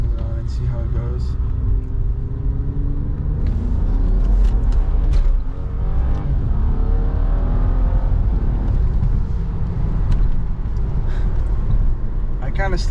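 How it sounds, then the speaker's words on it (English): A BMW F30 335i fitted with a new 5-inch VRSF intercooler accelerates hard on a pull, its engine note rising steadily over a heavy, continuous road rumble heard from inside the cabin. "we're gonna do the first pull here with the new intercooler on and see how it goes"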